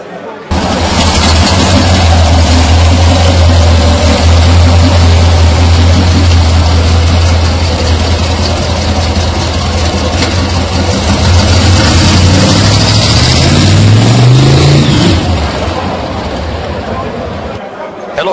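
A 1955 Chevy 210 Bel Air with a 350 four-bolt-main V8 bored 40 over to 357 idles close by with a steady, deep low rumble, rising briefly near the end as it is revved, while people talk over it.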